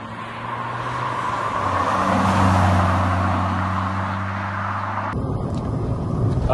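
A Renaultsport Clio 172 Phase 1 engine idles and rises in a low, steady hum, its exhaust note subdued and quiet rather than loud, with a brief shift near the end.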